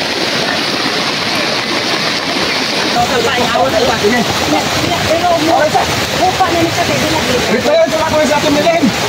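Strong floodwater rushes loudly and continuously in a flood in Leyte, a dense steady roar with voices talking and calling over it throughout.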